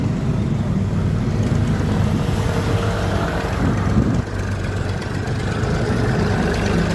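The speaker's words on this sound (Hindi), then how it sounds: "ट्रैक्टर भी इधर बीच में चल रहे हैं।" A tractor engine runs steadily through a busy main market street crowded with tourists in Gozo, Malta, a continuous low idling rumble that stays loud and close throughout with no talk over it.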